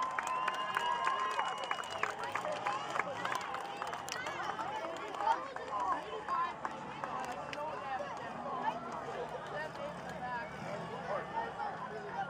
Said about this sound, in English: All right, give him a round of applause.